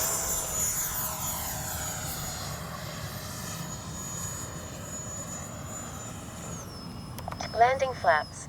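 An E-flite 64mm Viper RC jet flies overhead with a steady, high-pitched ducted-fan whine that sweeps in pitch as it passes and banks, heard from the ground at moderate distance.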